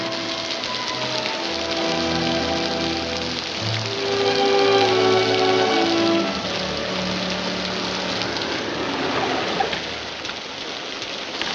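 Steady rain falling on surfaces, a dense even hiss that runs the whole way through, with music or tonal sounds playing faintly underneath.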